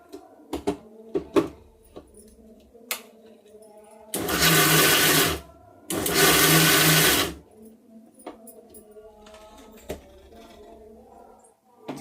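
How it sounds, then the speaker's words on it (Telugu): A kitchen mixer grinder runs in two short pulses of about a second and a half each while coarsely grinding ingredients for an iron-rich recipe, loud and close, with quieter handling clatter before and after. "దీన్ని ఇప్పుడు మిక్సీ పడదాం. అంటే ఒక 2 పల్స్ ఇచ్చుకుంటే సరిపోద్ది"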